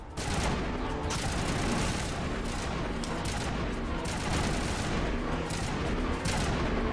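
Dense, continuous gunfire from the Mass Effect video game, rapid overlapping shots forming a steady loud barrage that fills the whole stretch without pause.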